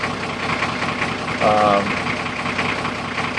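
Toyota Land Cruiser HJ60 diesel engine idling in poor condition, suspected worn piston rings; a steady, close, rough drone fills the whole clip, with a short tonal burst near the middle.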